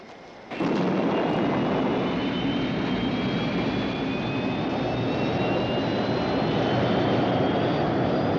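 A spacecraft lifting off in a science-fiction TV series: after a brief quiet moment, a loud, steady engine roar erupts and holds constant, a dense rumbling blast with a faint rising whine on top.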